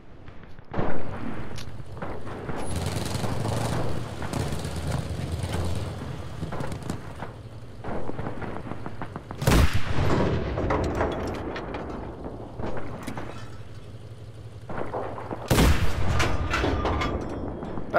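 Tank cannon rounds in the video game Enlisted boom out in two loud, sharp blasts roughly six seconds apart, over a steady low engine rumble and mechanical clatter.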